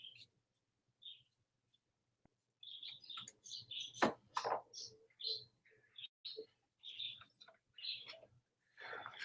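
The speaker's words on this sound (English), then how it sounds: "She is talking to the birds" Small birds chirp in quick, bright bursts nearby after a quiet start, with soft clicks and faint household sounds between the calls.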